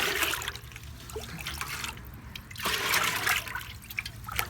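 Clean water pours into a fertilizer mixture of fermented rice water, a gurgling, splashing flow with dripping that rises and falls in two main surges, close by.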